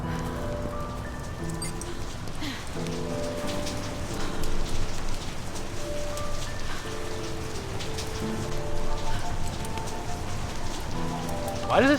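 Steady rain patters across the scene in The Solus Project, a continuous hiss of drops on surfaces beneath sustained tonal game music, with no talking.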